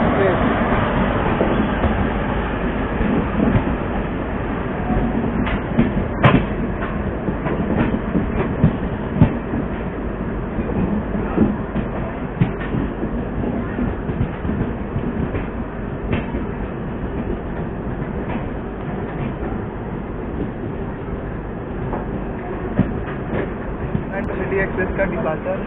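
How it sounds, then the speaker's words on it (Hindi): A Chhapra Intercity Express hauled by a WG7 locomotive passes at Gonda station, a continuous rumble and rhythmic clatter of wagons heard up close, with voices mixed in. "और भाई ये रही गोंडा का WG7 छपरा इंटरसिटी एक्सप्रेस।"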